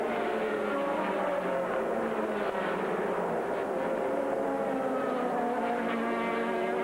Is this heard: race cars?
yes